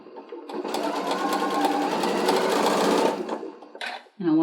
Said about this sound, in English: and sewing all the way down.